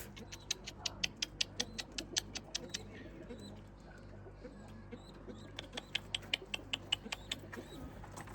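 Limoni breed pigeons in their loft, with repeated soft vocal calls and flutters coming in bursts at the start and end over a low steady background hum, moderately near but quiet.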